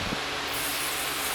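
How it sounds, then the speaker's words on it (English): PB Blaster penetrating oil sprayed from an aerosol can onto bolts during a 2001-2005 Honda Civic radiator replacement, a short, steady, close hiss that runs unbroken throughout. "Just cover all these bolts with some PV blast."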